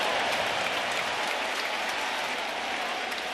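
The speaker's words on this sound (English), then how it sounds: "Just listen to the crowd." A packed Yankee Stadium crowd at an Angels vs Yankees baseball game cheers and applauds in a dense, steady roar that stays loud from start to finish.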